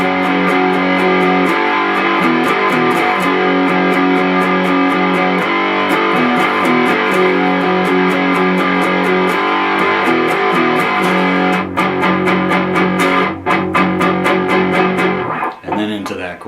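Bridge riff on a distorted electric guitar: a loud, continuous, driving pattern of repeated chugging notes with a few brief breaks near the end, played alone without talk.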